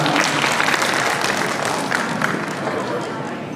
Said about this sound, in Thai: ขอเสียงปรบมือดังให้กับลัคกี้เฟรมจำกัดครับ